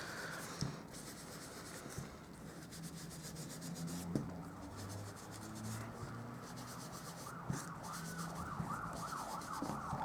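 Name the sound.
traffic on a nearby main road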